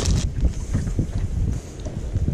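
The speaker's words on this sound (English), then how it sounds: "I hate wind, listen" Wind blows steadily across open water during a speckled trout fishing trip, a gusty low rumble buffeting the microphone in uneven surges, with no voices.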